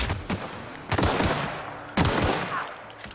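Gunfire in The Outer Worlds, three sharp close shots or short bursts about a second apart, each with a ringing tail, no talk.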